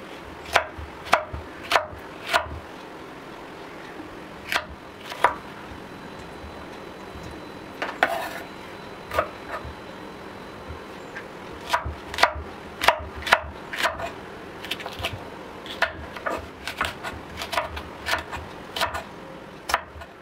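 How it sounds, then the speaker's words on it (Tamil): A knife cuts okra for sambar on a board, sharp, dry knocks that come in irregular clusters over twenty seconds with short pauses, close and clear and with no talk. "இப்போ இந்த வெண்டைக்காவை இதே போல் நம்ம கட் பண்ணி எடுக்கலாம்"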